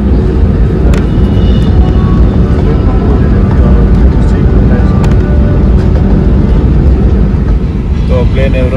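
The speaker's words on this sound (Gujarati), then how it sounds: "પ્લેન એવ રનવે માં જાય હા પ્લેન આગળ ટેક ઓફ કરી છે" An airliner roars as it takes off down the runway on a flight from India to the UK, a loud, constant broadband engine rumble heard from inside the cabin with faint clicks over it.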